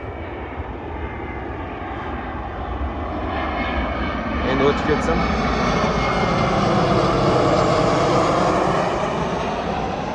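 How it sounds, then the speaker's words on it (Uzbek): Aircraft engine noise from planes passing over a farm field where lettuce seedlings are grown, a broad steady roar that swells louder midway and stays loud, with a person speaking over it. "Mana shu har safar bezovta qiladi samolyotlar."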